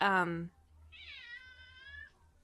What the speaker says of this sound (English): I would love to hear her meows again.